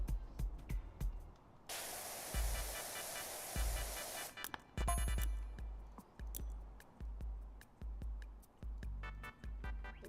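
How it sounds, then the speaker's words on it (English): Pressure washer spray in the video game PowerWash Simulator 2 hisses in a steady burst lasting a few seconds, followed by shorter intermittent sprays and clicks, fairly quiet overall. "I will turn down the actual water sound."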